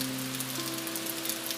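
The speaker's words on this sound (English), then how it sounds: "steady rain is the main sound" Soft, steady rain falling as a continuous gentle hiss, even and unbroken, with a faint low hum underneath.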